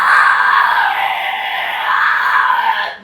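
A vocalist demonstrates a vocal fry scream, a loud, sustained, gritty rasp held close to the microphone for about three seconds before cutting off abruptly.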